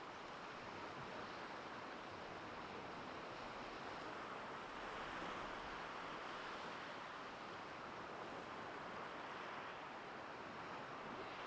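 Ocean waves wash steadily onto a beach where driftwood lies, a continuous broad roar of surf with slight swells and some wind buffeting, faint and distant with no talking.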